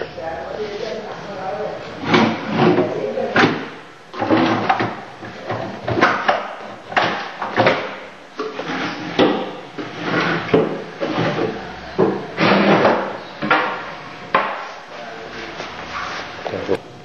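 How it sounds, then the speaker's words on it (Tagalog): A kitchen drawer is repeatedly slid open and shut, giving a steady series of wooden scrapes and soft knocks close by, with people talking now and then between the movements. "Drawer."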